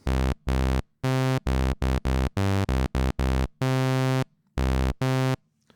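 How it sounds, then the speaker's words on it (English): Behringer 2-XM synthesizer playing a basic sawtooth patch: a bright, buzzy run of separate notes, some short and staccato, others held longer, sounding close and clear with no voices. "It's very basic, it's just a sawtooth."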